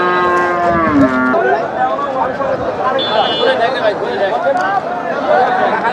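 At a busy cattle market, a Sahiwal bull or cow lets out a loud, close, drawn-out moo in the first second, followed by a steady murmur of crowd chatter and market noise.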